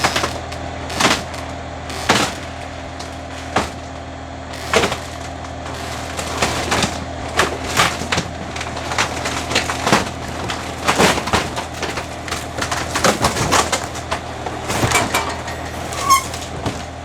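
Tank being torn out from under a classic motorhome, a string of sharp cracking, splintering and crunching impacts over a low mechanical drone, irregular and close, with no voices.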